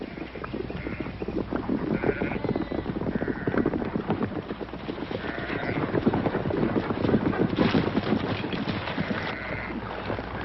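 A flock of sheep bleats repeatedly over a steady bed of trampling hooves, the cries rising and falling in irregular bursts across the crowded scene.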